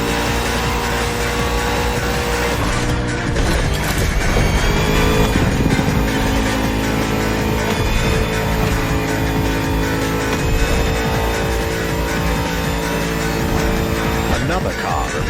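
Racing along in a video game, the Bugatti Vision GT's engine roars loudly and continuously with rising and falling revs, shifts and tire noise, while someone talks over the driving.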